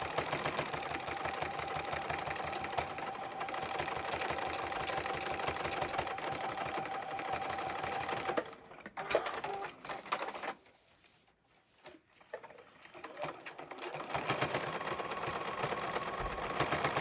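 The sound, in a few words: sewing machine quilting a baby space turtle quilt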